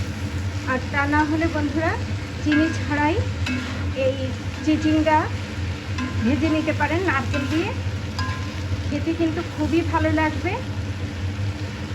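Snake gourd frying with grated coconut in a pan sizzles steadily at close range, with occasional stirring scrapes, while someone talks over it.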